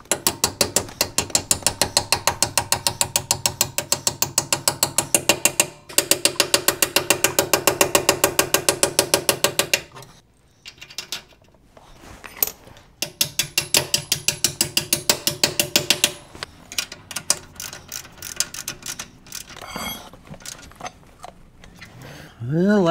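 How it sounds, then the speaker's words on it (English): A ratchet wrench tightens a 1/2 inch grade 8 bolt through a bushing on a 1987 Toyota 4Runner, with long runs of rapid loud clicking broken by short pauses. "I'm going to put this bushing in there, and then I'll put a 1/2 inch grade 8 bolt"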